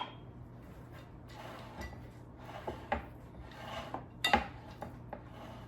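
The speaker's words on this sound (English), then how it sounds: "And then I'm going to fold in 1 cup of walnuts." Walnuts are folded by hand into a gluten-free date and walnut bread batter in a bowl, making quiet, intermittent rubbing and scraping strokes with a few light clinks.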